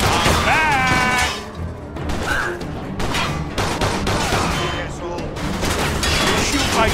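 Gunfire rings out during a shootout in the video game Mafia II, with repeated loud bursts of shots and impacts and voices shouting over the action.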